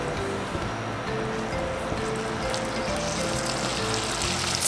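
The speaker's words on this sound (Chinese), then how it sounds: "炒到变色" Marinated pork stir-frying in a hot wok, a steady loud sizzle with faint scraping of the spatula throughout.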